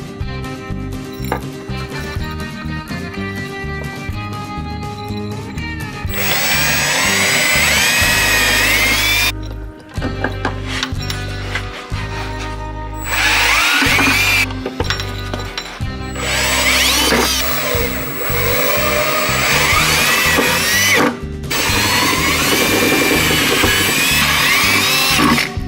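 Power drill driving self-tapping screws into an Auto Collect Storm harness shield on a Nissan 240SX S13 engine bay, heard as repeated loud whirring bursts of varying length with short pauses between, close by, with no talking.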